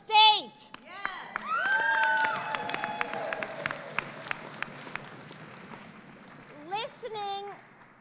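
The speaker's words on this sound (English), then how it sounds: "Listening to all of us shout and whoop and cheer, you'd think we were at a baseball or basketball game." A crowd at a New York State Senate news conference on housing stability and tenant protection shouts, whoops and cheers with scattered clapping, loud and close, easing off in the middle before another burst of whooping near the end.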